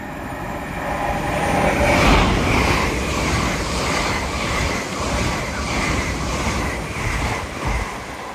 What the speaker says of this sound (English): Passing through now is an LNER Azuma from Edinburgh Waverley to London King's Cross.